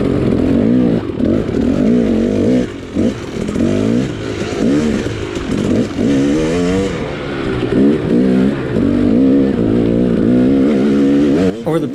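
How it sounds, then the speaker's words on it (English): A dirt bike fitted with a SmartCarb 2 carburetor runs loud and close, its engine revving repeatedly in rising and falling bursts over a rough, raspy idle, with some clatter. "Hot or cold, the bike will fire up instantly."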